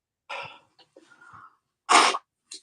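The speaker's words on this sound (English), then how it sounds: "I'm gonna sneeze again." A person sneezes on a live stream, a loud sharp burst near the mic after some breathy lead-in sounds, followed by a short faint trailing noise.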